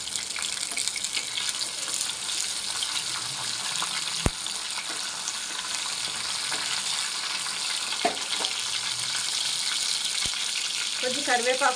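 Mustard seeds, garlic and a dried red chilli fry in hot oil for a sambar tempering, giving a loud, steady sizzle with a few sharp taps and crackles throughout.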